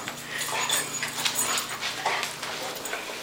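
A puppy whimpers and yips in short, rapid bursts close by, with panting and rustling mixed in over a low background hum.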